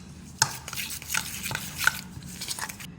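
A spoon stirs a chicken marinade of lemon juice and food color in a bowl, producing several close, scraping and clinking strokes at an uneven rhythm over about three seconds.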